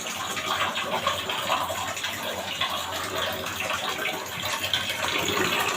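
Dishes left from the night before are washed under a running tap in a home kitchen, with a steady rush of water and scattered clinks and splashes at moderate volume throughout.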